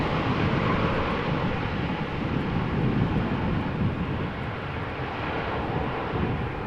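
An airplane at Amsterdam Schiphol Airport gives a steady, loud roar of jet engine and wind noise that runs broadband and unbroken from start to end.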